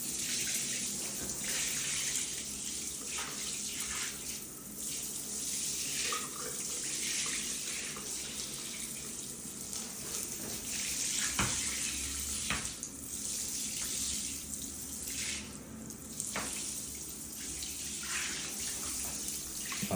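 Water sprayed across a tile floor during a professional tile and grout deep clean, rinsing toward a drain: a steady, close rushing hiss of running water throughout, with occasional splashes and knocks and no talk.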